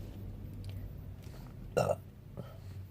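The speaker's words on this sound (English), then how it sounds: "Freaking Coke always makes me burp." A single loud, throaty burp erupts mid-clip over low background hum, followed by a fainter second one shortly after.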